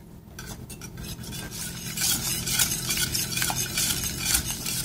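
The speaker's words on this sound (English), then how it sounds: "we're going to whisk that in until it melts" A whisk stirs shredded cheese into a sauce in a pan until it melts, with a steady, close scraping and swishing that grows slightly louder partway through, along with occasional light clinks against the pan.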